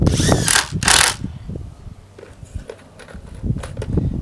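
Coated 2.5 inch deck screws are driven into wood with a power driver: two loud, close bursts of whirring and ratcheting come first, followed by fainter, intermittent clicks and mechanical rattles.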